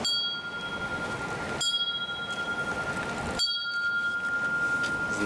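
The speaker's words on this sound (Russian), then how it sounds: "Послушай, как колокольчик звенит." A small hanging bell rings repeatedly in three struck episodes in the Indian mountains, bright tones lingering and fading over a steady outdoor rush.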